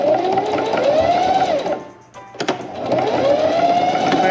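Sewing machine stitching denim shorts made from old jeans, a loud close whirring run that dips into a brief pause with a few clicks before the motor ramps up again.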